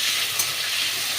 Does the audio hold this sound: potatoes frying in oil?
yes